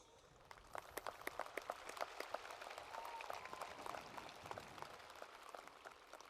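An audience at a 2022 Wichita Falls High School graduation applauds as the senior leadership and Board of Trustees are welcomed, a steady wash of many hands clapping in a large space, building after a moment and sustained at moderate distance.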